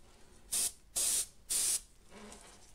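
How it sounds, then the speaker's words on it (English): An airbrush spraying acrylic paint onto paper, giving three short, sharp bursts of hissing air in quick succession, close and clear against a quiet room. "Let's get the airbrush."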